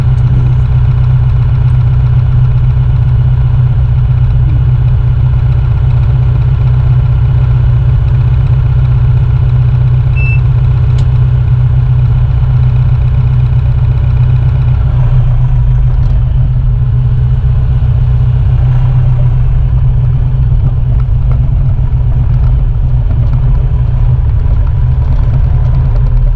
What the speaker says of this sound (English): Bigger engine with this smokestack sounds great outside